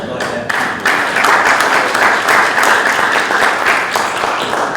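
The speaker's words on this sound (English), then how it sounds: "I've got to applaud that." Applause breaks out at a village board of trustees meeting, a roomful of people clapping steadily and fairly loudly for several seconds with a few voices mixed in.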